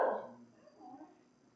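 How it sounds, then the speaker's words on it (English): Two dogs bark in the background, a brief faint burst at the start that fades quickly into near quiet. "That's Charlie and Scooter, and they're barking."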